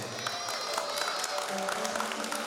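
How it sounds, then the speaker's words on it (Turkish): Guests at a henna night clap together in a dense, steady patter that carries through the whole moment, with voices and music-like tones mixed underneath. "Kim benden böyle hoş görür bu sonunu alkışlasın, yani alkış eləsin."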